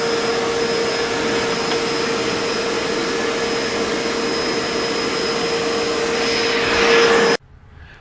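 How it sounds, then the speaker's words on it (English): A Shop-Vac 5.5HP wet/dry vacuum runs steadily with a loud, constant whine and airy roar, rising slightly in pitch near the end before cutting off abruptly into quiet. "Kind of did a little vacuuming of what I need to vacuum around here."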